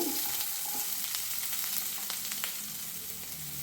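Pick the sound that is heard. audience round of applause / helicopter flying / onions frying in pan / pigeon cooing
onions frying in pan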